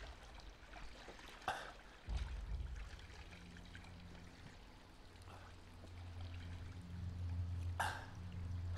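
Spring water runs steadily in Uncharted 3: Drake's Deception, an underground-fed stream trickling and pouring at low level, with a soft continuous flow and a low rumble beneath it.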